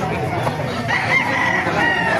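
Several roosters crowing at a poultry market in Calumpit, Bulacan, long drawn-out crows rising over a busy background of clucking fowl and crowd murmur.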